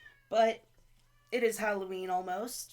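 A cat yowls and meows in another room, drawn-out and moderately faint, in the background while a person talks.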